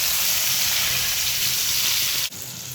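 Onions fry in hot oil for a hilsa fish dish with a loud, dense, continuous sizzle up close that briefly cuts out near the end before resuming.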